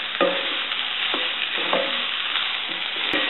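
A Brussels sprouts and zucchini stir-fry curry is mixed in a pan, with several distinct scraping stir strokes spaced about half a second apart over a soft, steady background sizzle.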